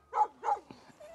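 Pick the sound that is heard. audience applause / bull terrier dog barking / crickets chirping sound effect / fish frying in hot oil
bull terrier dog barking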